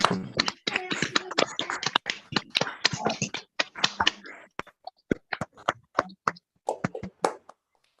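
Participants on a video conference call unmute and clap for a president's report, producing scattered, uneven hand claps that start thick and overlapping, then thin out into sparse individual claps near the microphone.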